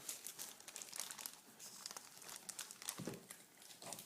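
Plastic book-covering sleeve crinkling and crackling steadily as it is smoothed and folded around a book, with dense close rustles and a sharper crunch near the end, no voices.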